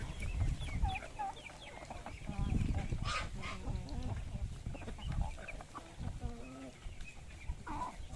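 Young chicks about three weeks old clucking and cheeping among a farmyard flock, a busy, overlapping chatter heard close by for several seconds with no talk.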